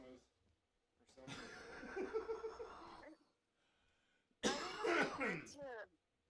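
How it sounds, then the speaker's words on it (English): Throat clearing and coughing from a person nearby, in two rough bursts separated by a short quiet gap, with some chuckling mixed in. "Sorry, I heard somebody cough."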